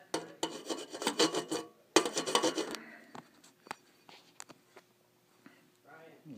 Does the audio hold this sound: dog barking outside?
no